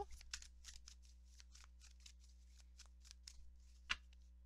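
Tarot cards shuffled by hand, a quick series of soft riffling flicks and slides, close and quiet over a steady low hum, with a sharper snap near the end and no speech.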